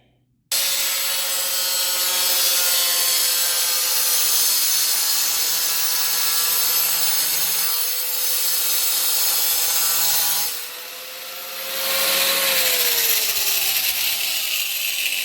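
A hand saw cuts a 45-degree angle through clamped wood trim, with steady back-and-forth rasping strokes running close and loud for most of the clip, briefly pausing before resuming.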